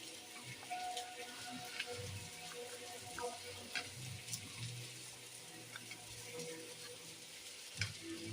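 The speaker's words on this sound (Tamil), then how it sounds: "குழம்பு நல்லா கொதிச்சிருச்சு இப்போ நம்ம எடுத்து வச்ச இந்த மாம்பழத்தை இதில் போட்டுடலாம்" A pot of potato sambar with mango bubbles and simmers softly, with quiet popping and burbling sounds continuing steadily at low volume.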